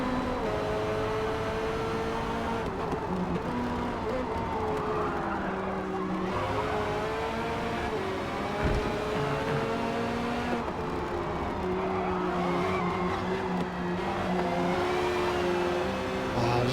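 Chevrolet Corvette C7 racing around Grand Oak Raceway in Forza Motorsport, its tires skidding and sliding under power. A loud, steady engine drone runs throughout, with screeching tire slides rising over it.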